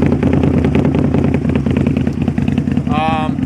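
A 2004 Harley-Davidson V-Rod with an aftermarket exhaust runs loud and close, its deep engine throb and rumble steady throughout, with a brief voice near the end.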